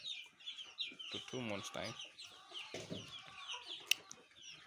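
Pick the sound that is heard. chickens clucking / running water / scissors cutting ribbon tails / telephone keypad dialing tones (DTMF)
chickens clucking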